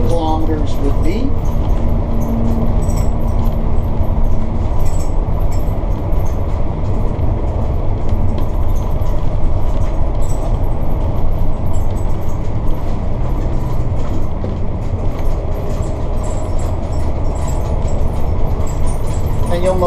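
Inside a Sportscoach diesel motorhome cruising at 60 km/h, a steady low road-and-engine roar fills the cabin with faint rattles and clicks, while someone talks over the noise.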